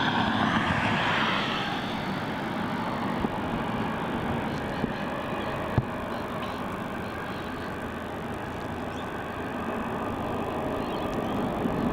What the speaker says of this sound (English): This is going to be the Qantas 737-800. And it is flying off to Sydney as well as QF410.